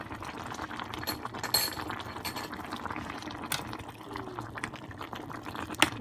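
Kimchi stew with wide glass noodles and imitation crab sticks boils in a small electric ramen pot, a close, steady bubbling and gurgling with occasional louder pops.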